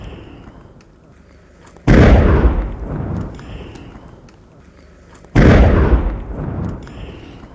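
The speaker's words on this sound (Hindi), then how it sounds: "दूसरी तस्वीर जहां पर जो हैंड ग्रेनेड बरामद किए गए थे उसे नष्ट किया गया है।" Recovered hand grenades destroyed in a controlled blast in Jammu and Kashmir, two heavy booming explosions a few seconds apart, each a sudden loud burst that rolls off into a fading rumble.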